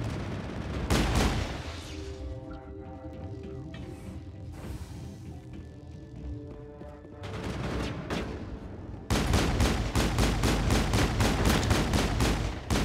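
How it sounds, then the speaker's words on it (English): Gunfire in the video game Mass Effect comes in bursts of rapid shots, with a loud volley at the start and a sustained rattling barrage near the end, mixed with mechanical game sounds in between. "Shoot it, Rex."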